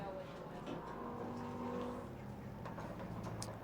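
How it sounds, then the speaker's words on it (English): A Bomber-class race car engine drones along New Smyrna Speedway during qualifying, heard from a distance, while a voice talks over it. "As our next qualifier hits the Speedway, Chuck Rush in the K9"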